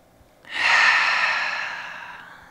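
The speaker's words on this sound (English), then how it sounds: "You might join me for one collective breath, starting by exhaling all of your air out." A single deep breath in a calm yoga practice: a long, steady airy exhale that swells then slowly fades, close and alone with no talk.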